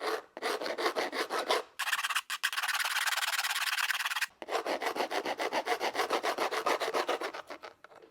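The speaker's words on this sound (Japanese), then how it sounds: "これヤスリで削っていきます。" A hand file rasps back and forth over brass nail heads sticking out of a stacked leather heel, in quick rhythmic close-up strokes, with one longer continuous pass midway and no talking.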